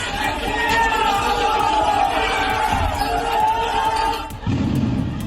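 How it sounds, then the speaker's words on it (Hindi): A crowd in West Bengal chants slogans in unison during a bombing, a loud, steady mass of raised voices that keeps going with little break before it shifts abruptly near the end. "बमबाजी के दौरान भीड़ की तरफ से अल्लाहू अकबर के नारे लगाए गए"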